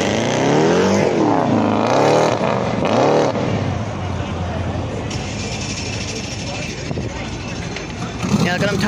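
Drag racing car spinning its rear tires at US 46 Dragway, a loud roaring engine with sweeping revs up close, then a sustained rumbling whine that fades somewhat while people talk over it.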